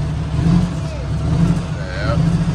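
A truck engine idles and rises in a moderate rev as fuel is applied beside a Great Dane van, a steady low rumble with a voice talking over it.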